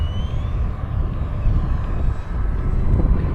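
An FMS P-51 Mustang Red Tail 1700mm RC model airplane flies overhead, its motor giving a continuous loud drone mixed with wind rumble, steady throughout with no speech.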